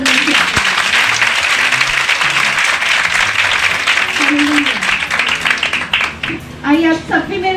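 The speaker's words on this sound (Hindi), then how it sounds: "एक बार जय जयकार वाली ताली हो जाए परमेश्वर" A church congregation breaks into loud, sustained applause and cheering, dense clapping throughout that thins toward the end as a voice comes in over it.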